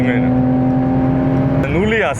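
Close, loud engine drone of a Mercedes-AMG C43 during a 0-100 km/h run on the autobahn, holding a steady pitch before a quick gear shift and a fresh rise in revs.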